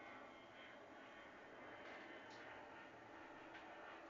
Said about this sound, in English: can you hear the plane here?